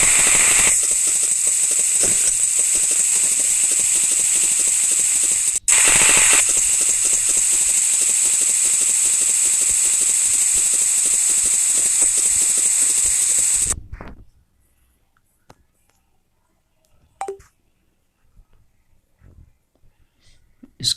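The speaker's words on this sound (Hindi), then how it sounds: "सबसे पहले हम टिग वेल्डिंग करेंगे। ये हमारी पाइप है, इस पर टिग वेल्डिंग करेंगे।" TIG welding a root pass on a pipe, a steady loud buzzing hiss with a faint crackle that runs for about fourteen seconds before cutting off, leaving near silence with a few small clicks.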